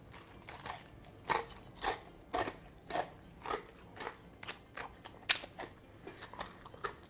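Crisp bites into Chinese-style fried chicken wings, a series of about a dozen sharp crunches close to the microphone at a loose, irregular rhythm over a quiet background.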